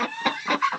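A Peking duck calls in a short burst of harsh, nasal quacking clucks, three or four rapid notes close to the listener.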